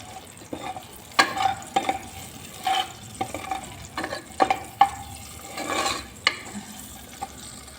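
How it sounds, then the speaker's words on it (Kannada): Curry leaves and onion fry in oil for village-style chicken sambar, with a soft continuous sizzle broken by repeated sharp stirring clinks and scrapes of a utensil against the pan, close by. "ಕರಿಬೇವು ಸೊಪ್ಪು ಹಾಕಿ ಫ್ರೈ ಮಾಡ್ಕೊಳ್ಳೋಣ ಫ್ರೆಂಡ್ಸ್."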